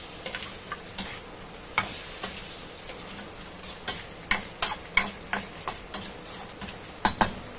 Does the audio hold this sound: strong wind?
no